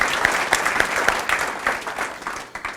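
A crowd at a Hall of Fame ceremony in a Croatian Hall claps steadily, a dense patter of many hands at moderate volume with some individual claps standing out.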